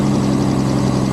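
A military M715 engine fitted with a Holley carburetor idles with a steady, low, rumbling drone throughout, close and unbroken.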